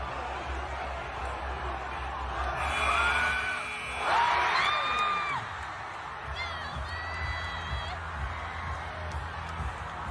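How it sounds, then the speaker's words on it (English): A high school basketball crowd cheers a half-court buzzer beater, a broad roar of yells and whoops swelling and peaking under a loud announcer's voice, with whistling tones cutting through the din. "The crowd went nuts."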